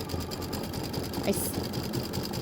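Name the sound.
embroidery machine doing decorative stitching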